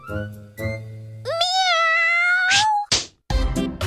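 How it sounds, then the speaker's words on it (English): A cat yowling after its tail is stepped on in a cottage by a fireplace: a loud, drawn-out rising meow-yowl lasting over a second, after low voiced sounds and followed by sharp thumps and scuffling noises. "one thief stepped on the tail of the cat who was sleeping by the fireplace"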